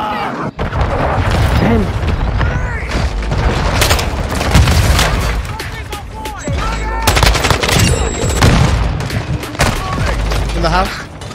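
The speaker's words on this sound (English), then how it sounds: "Friendly cruise missile inbound." Call of Duty Modern Warfare 2 multiplayer match with continuous machine-gun fire and booming cruise missile explosions, loud and dense throughout, with game announcer voice lines over the combat.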